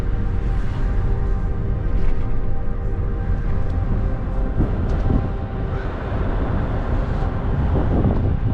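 Wind rushes steadily past on a cold, sunny day on the drive down to the Hoover Dam, a constant broadband roar buffeting the microphone with gusty surges throughout and no voices.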